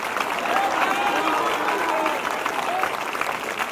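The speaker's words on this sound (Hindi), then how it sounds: "जब ये ताली बजाते" Congregation clapping at a live prayer service, a loud, sustained crowd applause with a faint voice or tone threading through it.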